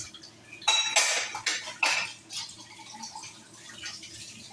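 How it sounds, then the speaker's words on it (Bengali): Dishes, pots and utensils being scrubbed and washed in a kitchen: a few close, clattering knocks of metal and crockery at the start, then lighter scraping and dripping water, with no talk. "এখন এই বাসন কটা মাজবো"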